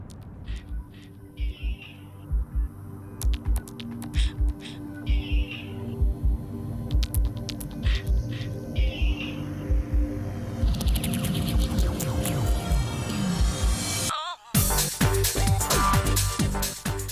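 Opening intro of the Kingdom Hearts video game: low throbbing hum with regular deep pulses and soft tonal swells, building into a denser, brighter orchestral passage after a brief silence near the end.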